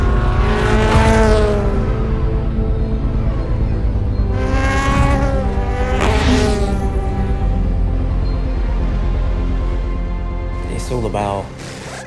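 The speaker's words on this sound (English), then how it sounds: "the number 7 Toyota begins its race" The number 7 Toyota race car runs on track, its engine rising and falling in several loud, high-pitched sweeps as it accelerates and shifts through gears before cutting off near the end, while a commentator talks over it.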